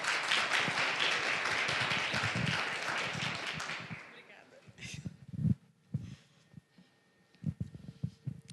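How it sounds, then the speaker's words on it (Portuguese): An audience applauding to welcome someone speaker at an entrepreneurship talk, a dense burst of clapping that fades after about four seconds, followed by scattered handling sounds and talk. "vamos receber ela com uma salva de palmas"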